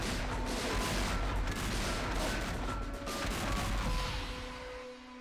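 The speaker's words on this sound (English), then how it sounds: "those cannons are kind of wrecking us a little bit here." Cannons fire continuously in the retro flash strategy game Age of War, a dense, loud barrage of overlapping booms and crashes that rolls on without pause for the whole stretch.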